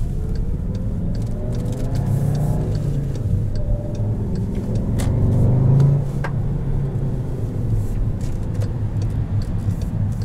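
The turbocharged 4-cylinder engine of a 2017 Volkswagen Jetta GLI with a six-speed manual pulls hard from inside the cabin, a steady low drone that swells briefly in a surge around the middle, with small clicks scattered over it.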